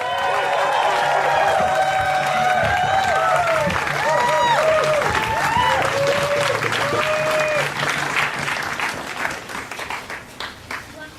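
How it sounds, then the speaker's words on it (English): Crowd applause and cheering at an outdoor block party in Portland, Oregon, a dense sustained wave of clapping with whoops and voices mixed in, tapering into scattered claps near the end. "Give a big round of applause for Miss Annette Steele."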